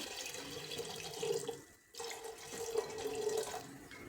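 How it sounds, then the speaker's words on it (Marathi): Steady stream of water running into a pressure cooker pot of mixed vegetables for pumpkin soup, with a brief pause in the middle before the flow resumes, close and continuous. "दीड कपाचा अंदाज पाणी घातले"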